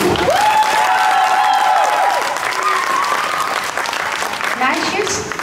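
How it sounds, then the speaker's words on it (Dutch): An indoor swimming pool audience gives sustained applause for a synchronized swimming group, with dense clapping and some cheering filling the space and gradually thinning out. "Dus mag ik van u een hartelijk applaus vragen voor deze groep."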